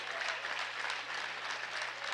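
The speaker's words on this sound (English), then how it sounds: "Good round of applause." A high school basketball crowd at a St. Louis Park boys quarterfinal gives a round of applause for a student, a steady, fairly faint wash of clapping from the stands with a low hum underneath.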